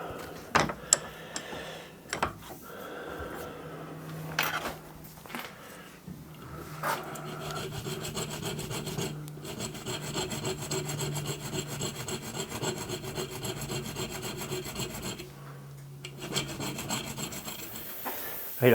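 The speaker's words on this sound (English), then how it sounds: "I've filed the end of the screwdriver to be a much better fit" Hand file rasping the tip of a screwdriver during a traction engine oil pump repair, steady rhythmic scraping strokes close up with a few louder knocks and clunks, no talking.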